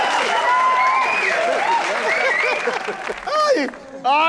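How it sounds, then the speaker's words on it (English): A studio audience on a comedy TV show breaks into applause mixed with voices and cheering, a busy crowd sound that thins out and dips briefly near the end before picking up again. "give them a round of applause"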